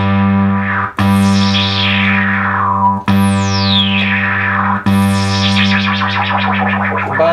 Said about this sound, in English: we can modulate the filter with that as well